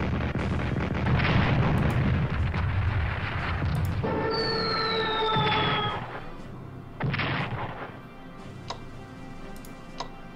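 Artillery shells bombing units in the Strategic Command strategy game, with a few heavy booming blasts followed by a sharp descending whistle and clicking interface ticks, fading to quieter game ambience.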